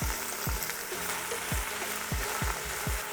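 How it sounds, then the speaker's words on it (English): Cabbage sautés with salt and pepper in a hot pan, giving a steady close sizzle and frying hiss, punctuated by regular soft thuds and scrapes as the pan is stirred roughly every half second. "We just wanna saute it until it gets a little bit softer."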